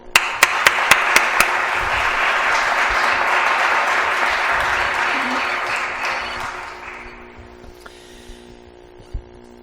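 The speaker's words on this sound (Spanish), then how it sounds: "la verdad es que yo creo que os merecéis un aplauso" An audience applauds before an evening talk on archaeological mysteries, opening with a few loud close claps, then a dense sustained round of clapping that gradually fades out, leaving a quiet room with a low hum.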